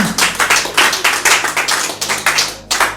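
A church congregation claps together in a fast, steady rhythm, loud and close, with sharp hand strikes repeating roughly every quarter second for a few seconds.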